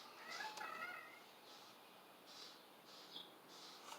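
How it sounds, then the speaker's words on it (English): A cat meowing outdoors, several faint, drawn-out meows repeating at intervals from a distance, with no talking over them. "cat's out there meowing its ass off"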